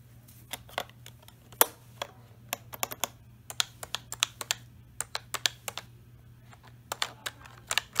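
A newly unboxed computer keyboard being typed on: crisp, close clicky keystrokes arriving in irregular bursts and pauses, with a faint steady hum underneath and no talking.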